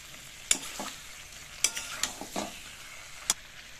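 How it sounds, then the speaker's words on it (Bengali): Jackfruit and potato are stir-fried with spices in a pan, a soft continuous sizzle broken by a few sharp clicks of the spatula scraping and knocking against the metal, close and alone. "দিয়ে মশলার সাথে একসাথে মিশিয়ে ভালো করে নেড়েচেড়ে কষিয়ে নেব"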